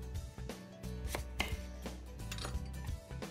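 Knife working through apples at a kitchen board as they are peeled for a caramelized dessert, with a quick run of close, crisp cutting strokes.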